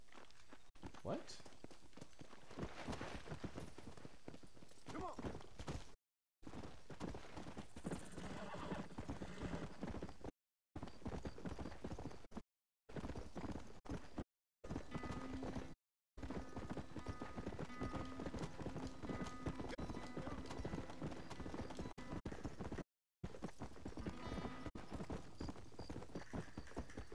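A video game horse's hooves clop steadily over a long stretch with a neigh, broken by a few brief silent gaps, while a person talks over it.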